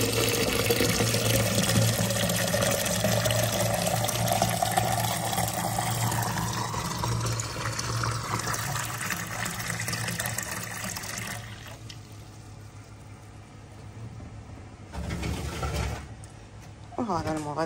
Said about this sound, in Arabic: احطه بالمطاره اللي راح تسوي لي لتر ماي